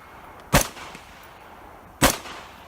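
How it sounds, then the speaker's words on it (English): Two sharp AR-15 rifle shots, each a loud isolated crack with a short tail, spaced about a second and a half apart with quiet between them. "Here is one of those evil AR-15s, and it's shooting."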